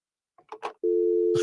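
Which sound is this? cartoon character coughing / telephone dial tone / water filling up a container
telephone dial tone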